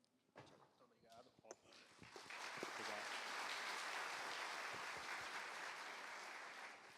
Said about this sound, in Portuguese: aí estavam batendo palmas